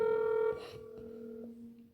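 A telephone rings with a steady electronic tone, loud at first and then softer as it continues, with no talk over it.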